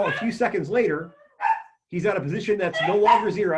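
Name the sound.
dogs barking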